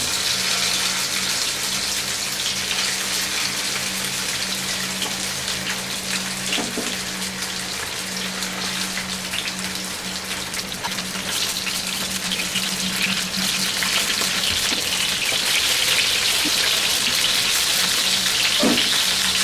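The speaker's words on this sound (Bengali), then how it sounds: "তেলটা গরম হইলে আমি মাছগুলাকে এর মধ্যে ছেড়ে ভেজে নিব" Bele fish fries in hot oil in a pan with a continuous dense sizzle and crackle. The sound stays close and fairly loud throughout, with no talking.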